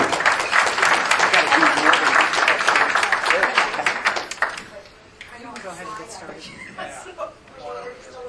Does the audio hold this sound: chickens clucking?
no